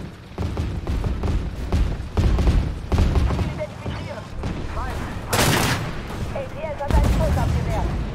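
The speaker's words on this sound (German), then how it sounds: "LDS hat einen Schuss abgewehrt." Heavy cannon fire and explosions in Armored Warfare as a Leopard 2A7 with a 140 mm gun has its active defense system intercept an incoming shot, loud booming blasts and rumbles repeating irregularly, with players talking over the battle.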